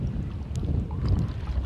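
Outdoor wind near boats on open water, a steady low rumble buffeting the microphone with faint splashes, and no talking.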